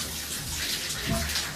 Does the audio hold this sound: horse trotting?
no